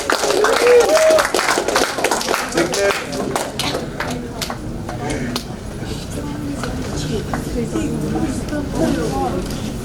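Applause for a presenting group at a youth summit, scattered clapping that is thin and uneven, mixed with clattering and with voices talking throughout.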